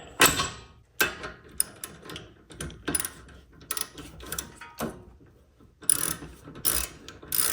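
A ratchet tightens bolts on the rear suspension vertical link of a 2015–2024 Ford Mustang, with quick bursts of sharp metallic clicking separated by short pauses, close and clear with no talking.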